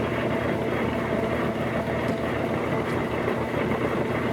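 A metal lathe runs in back gear while tapping threads for angle or cone nuts, giving a steady, even mechanical drone with a low hum that holds without a break.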